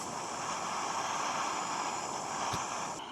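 A compact OEX camping stove roars while boiling water, a steady, loud, close-up rushing hiss with one brief click near the end.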